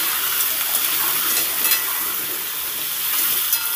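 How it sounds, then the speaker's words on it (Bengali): Pieces of pointed gourd (potol) fry with salt and turmeric in a pan, giving a steady bright sizzle that stays loud and even throughout, with faint stirring and no talking. "হলুদ আর লবণটা দিয়ে পটলগুলোকে আমি সুন্দর করে ভেজে নেব।"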